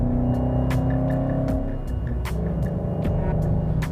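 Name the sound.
Roush Stage 3 Ford Mustang engine sound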